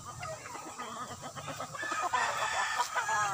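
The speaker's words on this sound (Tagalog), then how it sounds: "Halo-halo po yung mga manok dito." Chickens and roosters at a gamefowl farm cluck and call in a busy mixed chorus, with a rooster crowing toward the end, moderately close.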